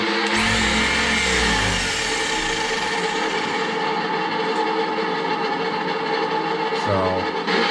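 A Traxxas Drag Slash RC car, set up in a Pro-Line inspired drag build, launches at full throttle with a loud, close, high-pitched electric whine that starts abruptly and sustains, briefly dipping and rising near the end.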